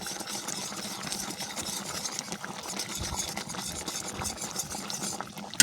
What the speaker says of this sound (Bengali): ডালটা ভালো করে মিশিয়ে নিলাম আমি